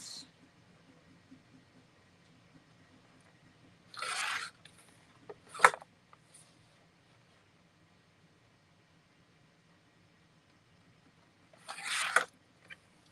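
Paper print being trimmed to 5x7 along marked lines for a vintage sewing pattern and hankie sign craft: a few short, faint scraping cuts, in separate bursts with quiet gaps between, heard alone.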